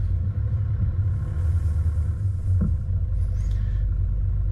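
A 4WD vehicle's engine rumbles low and steady on a rocky, loose-gravel track, close and continuous with a brief knock partway through.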